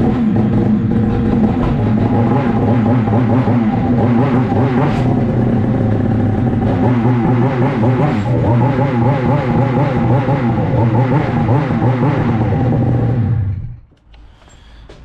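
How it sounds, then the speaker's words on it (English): A snowmobile engine runs loud and close in a garage, holding a steady rough drone with rising and falling revs for several seconds before it abruptly cuts out and goes quiet. "we're going to go ahead and start the sled"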